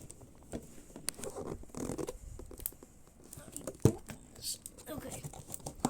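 A taped cardboard box holding a Porsche 911 GT3 RS toy set is pried open up close, with scratchy tearing, rustling and scraping, plus one sharper crack partway through, and a faint voice murmuring underneath.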